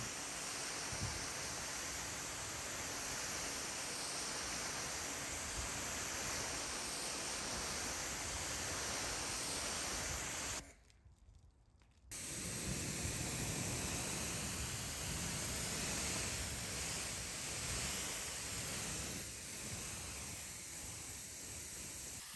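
Water sprays steadily onto a BMW Z4 as it is rinsed during an exterior wash. The hiss is loud, broad and continuous, cuts out briefly partway through, then resumes.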